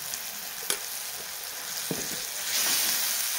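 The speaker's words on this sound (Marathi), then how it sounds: "आणि हे पण छान परतून घेऊया." Tomato masala with a big spoonful of homemade chili powder sautéing in a pan, giving a steady close sizzle with a few soft stirring clicks and scrapes, rising slightly near the end.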